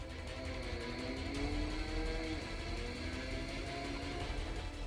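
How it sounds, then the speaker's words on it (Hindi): Motorbikes rev on a Mumbai street during an illegal race for money, their engines whining and rising in pitch as they accelerate past, a steady loud drone with no voices. "पैसे के लिए रेस लगाते बाइक सवार"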